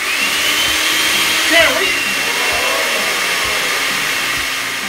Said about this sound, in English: we just need to make sure that our ingredients are blended thoroughly now